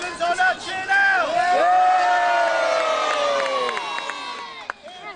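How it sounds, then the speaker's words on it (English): A large crowd cheers and whoops at a greatsword combat tournament at Petworth House, a loud sustained roar of voices with shrill whistles and shouts rising over it, swelling then fading toward the end. "Cheer now!"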